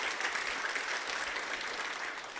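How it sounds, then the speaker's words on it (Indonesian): A congregation at a church sermon applauds with dense, even clapping that holds at a steady level throughout, moderately loud and without voices over it. "Kita beri tepuk tangan untuk kebenaran ini."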